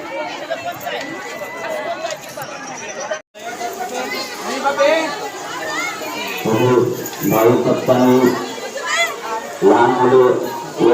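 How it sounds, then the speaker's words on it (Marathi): A dense crowd at the Tuljapur temple the day after the full moon: steady, lively chatter of many voices with children calling out, continuous and close, briefly cutting out for a moment before resuming. "गर्दी आहे तुळजापूरमध्ये काल पौर्णिमा झाली ना खूप गर्दी आहे"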